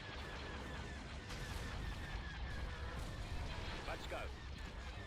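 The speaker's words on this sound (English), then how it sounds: "That missile defense satellite is bombarding us real nice" Missile defense satellite bombarding ships in Star Wars: Empire at War, a steady dense roar of distant explosions and artillery rumble running throughout, with a voice speaking over it.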